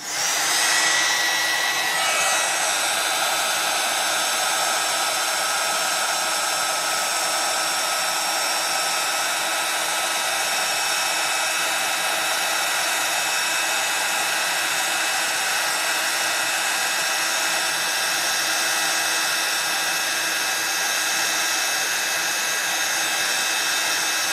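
A heat tool blows steadily for the whole stretch, a loud, even whir with a constant high whine, used to melt Wow embossing powder for card-making, and no voices over it.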